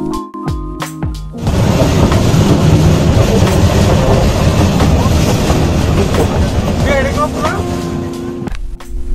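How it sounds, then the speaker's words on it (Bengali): The Jayantika passenger train runs fast on its rails, giving a loud, steady rumble and rattle that starts suddenly after a few seconds and continues almost unbroken. "এবং ট্রেন চলছে খুব দ্রুত গতিতে।"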